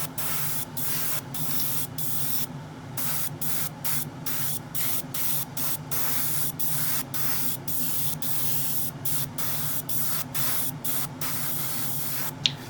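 An airbrush sprays gunmetal paint onto the interior panels of a Hasegawa Lancia 037 Rally model, giving a close, steady hiss broken into repeated short bursts with brief gaps throughout.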